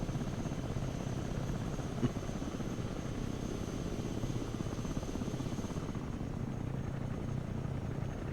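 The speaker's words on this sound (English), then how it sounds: "Osprey tiltrotor aircraft here" An Osprey tiltrotor aircraft lands in the video game Broken Arrow, its rotors throbbing in a steady, loud, continuous drone that eases slightly near the end.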